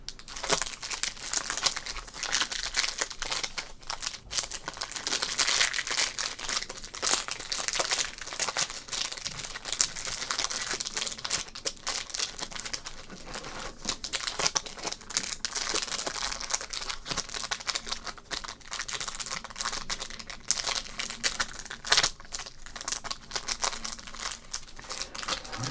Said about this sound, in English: Some crinkles for you crinkle heads.